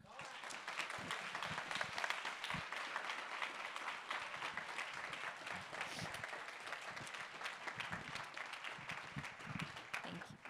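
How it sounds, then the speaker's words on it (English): A conference audience applauds a speaker, dense sustained clapping from a large crowd filling the room at even strength throughout, with no break. "Just another round of applause for Rabbi Brous."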